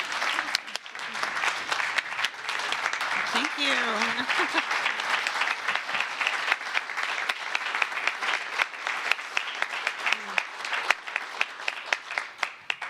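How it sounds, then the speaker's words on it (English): A large audience at a pro-life celebration event applauds steadily, a dense wash of clapping. A voice briefly speaks near the end as the clapping starts to thin. "let us all give you a big round of applause for many reasons"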